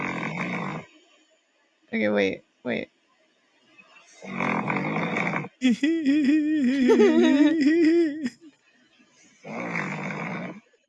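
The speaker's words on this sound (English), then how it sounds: "That's my dog snoring." A pet dog snoring in a home, a wavering, rumbling pitched snore lasting a few seconds between bursts of close talk, with a brief pause of breathing in between.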